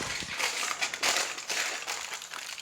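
Aluminum foil strip gets crumpled by hand around the edge of an apple pie crust, giving close, crisp crinkling and crackling in uneven bursts.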